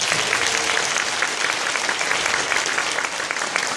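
A church revival audience claps steadily, a dense, even wash of applause that continues without pause.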